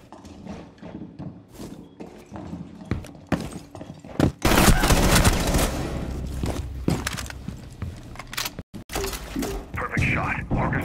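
Video game gunfire crackles in rapid bursts and volleys, loud and close, with a heavy blast midway, mixed with game voice lines and other effects.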